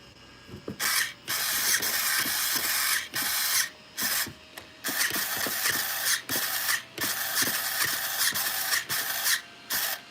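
An RC vehicle's servo whirs in about ten short mechanical bursts, each lasting under a second and separated by brief pauses, close and fairly loud with no voices.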